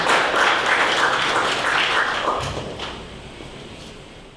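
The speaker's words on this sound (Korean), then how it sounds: "박수 부탁드리겠습니다." Audience applause at a forum, a burst of many people clapping that is loud at first and then fades away over a few seconds.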